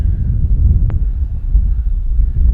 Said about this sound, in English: it's almost too windy to even fly